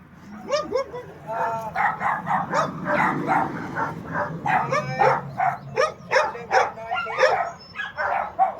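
Several dogs bark and yip in a rural West Virginia setting, a loud, near, rapid run of overlapping barks with some whimpering, heard under people talking.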